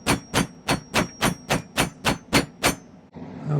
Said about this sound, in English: I'll use my plastic hammer. Tap it downwards just a little.